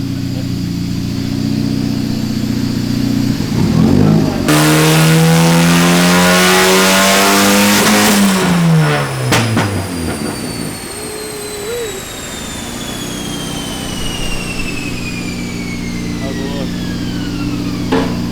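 A car engine revs hard and loud on a dyno, climbing through a long pull before cutting off, with a whine lingering afterward and voices partly underneath.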